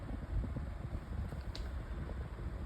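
Climate Keeper 12-inch table fan running on medium speed, a steady low, soft whooshing hum with faint creaks and rattles, alone and fairly quiet.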